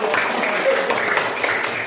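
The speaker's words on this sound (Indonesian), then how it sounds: "Boleh ya, tepuk tangan dulu." Primary-school pupils in a science classroom clap together for a correct answer, a brief burst of mixed hand claps with voices mingled in.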